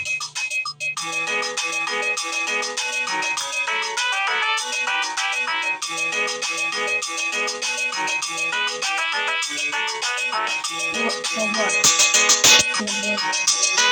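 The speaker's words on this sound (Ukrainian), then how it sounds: "Ви тоді слухайте мелодію, яку зараз Назар вам зашпокає." A bright, busy electronic melody from the game Sprunki plays loudly and steadily, with layered synthetic tones and a brief rising flourish near the end.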